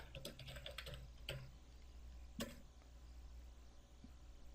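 A computer keyboard is typed on for a DiskPart command in Windows, with quick clusters of light key clicks early on, a firmer tap later, then quiet.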